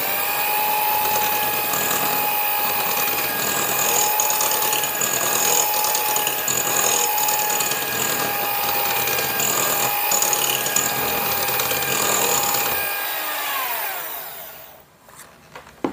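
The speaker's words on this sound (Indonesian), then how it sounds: "Nah ini kita aduknya pakai kecepatan yang paling rendah aja, cukup hingga tercampur merata." Electric mixer running at its lowest speed while blending egg yolk batter for a small lapis legit layer cake, a steady whirring drone with a whine that winds down and stops near the end.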